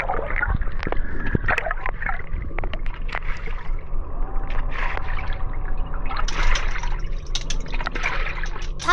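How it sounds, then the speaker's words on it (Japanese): A Hitachi BeatWash BW-V80F washing machine turning its drum on a gentle wash cycle, water sloshing and trickling with small splashes and clicks, close and continuous with no talk. "洗濯槽ごと回すことで遠心力を生み出し、押し洗いしています。"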